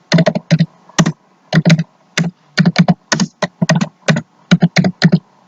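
Fast, crisp clicking of keys on a computer keyboard while writing code, with irregular bursts of keystrokes and short pauses, close and loud with no talking.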